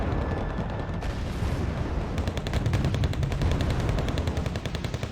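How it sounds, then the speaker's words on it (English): Artillery shelling mixed with rapid machine-gun bursts fills a battle in the strategy game Wargame: Red Dragon, a loud, continuous barrage of rattling gunfire and booms with no voices. "he started shelling this position"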